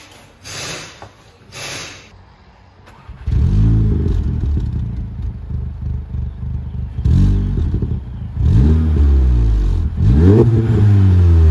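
A Volkswagen Golf GTI 7.5 engine with a new full exhaust blips and revs repeatedly, rising and dropping in sharp bursts, close by after a few quieter moments.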